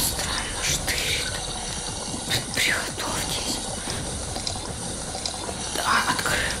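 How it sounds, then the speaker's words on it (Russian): Water runs from a tap in a room, a steady splashing hiss that carries on throughout at low level, with faint voices and small movements over it. "включаю воду"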